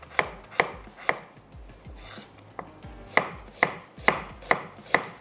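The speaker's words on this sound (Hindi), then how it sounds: "प्याज है इसको मैं थोड़ा सा रफली स्लाइस या चॉप कर लेते हैं" A knife chops through onion on a cutting board in sharp, repeated strokes, loud and close, with a few quieter gaps between bursts.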